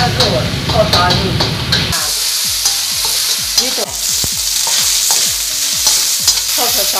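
Stir-frying in a wok with hot oil, part of making king oyster mushroom with sliced pork: a loud, steady sizzle with repeated scraping strokes of the spatula against the wok, no talk.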